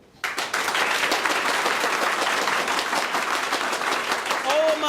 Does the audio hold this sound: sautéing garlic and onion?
no